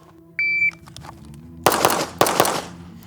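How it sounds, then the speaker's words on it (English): A 100-year-old combat pistol fires on a shooting range after a short electronic timer beep, with two loud clusters of rapid close shots echoing briefly. "all 4 of those shots were really good"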